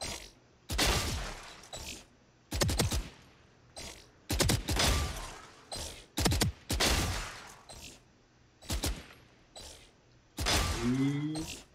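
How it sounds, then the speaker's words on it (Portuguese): Gunshots striking robot targets in a video game aim test, a series of sharp bursts in clusters spread across the clip, fairly close and loud with brief gaps between volleys. "Você derrota esses robôs com um tiro na cabeça."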